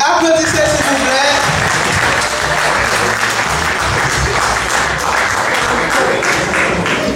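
An audience at a quiz final in Paris breaks into dense, steady applause that stays loud and even from start to finish.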